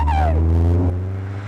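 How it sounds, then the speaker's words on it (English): A Rover V8 engine in a lightweight kit sports car gives a deep, steady low rumble up close while driving, with a brief rising-then-falling whine in the first half-second; no voices. "people love the noise and the sheer grunt of a V8."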